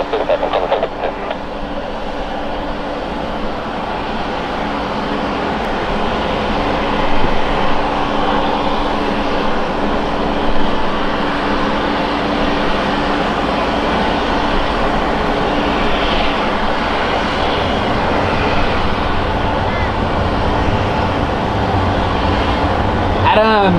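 Aircraft 752 takes off from runway 01 left at Brisbane Airport, a steady loud engine roar that builds slightly and holds the whole time, with voices talking over it.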